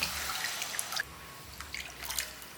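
Water, about one and a quarter cups, poured into a cooking pan for an evening snack; a faint, soft trickle and drip, quiet throughout with no talking.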